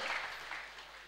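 A church congregation breaks into applause for a man testifying at a worship service, a dense, steady wash of hand clapping that fills the short moment and tapers slightly toward the end, with no voice over it.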